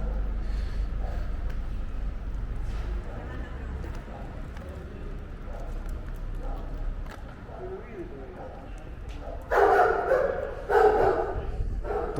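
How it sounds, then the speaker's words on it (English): Street dogs bark in La Boca, Buenos Aires: a couple of sharp, fairly close barks burst out near the end, after quieter street noise with people talking and hooves clip-clopping. "Dodgy doggos of La Boca"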